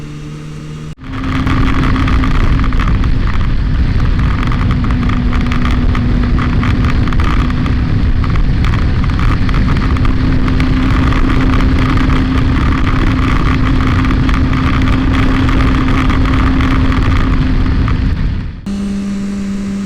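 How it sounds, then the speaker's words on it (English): Steady loud engine drone with a constant hum runs throughout as a motorcycle rides through a heavy traffic jam, continuous and close with no talking, starting and stopping abruptly. "I got some video of the kind of nasty traffic."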